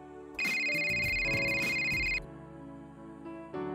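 Telephone ringing on a call to the police emergency number, a loud electronic ring tone with a short burst and a brief restart, no voices.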